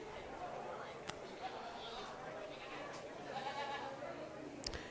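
Market goats bleat faintly and intermittently in the background of a county fair goat show in Las Animas County, under steady crowd chatter and an announcer's voice.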